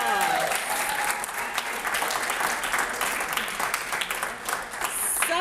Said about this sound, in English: can we give our groups another round of applause?